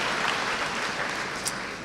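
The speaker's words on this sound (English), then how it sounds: "It's worth applauding for." A large crowd applauds at a university fall commencement ceremony, a dense, loud, steady wash of clapping heard from a distance in a big hall, with no talk over it.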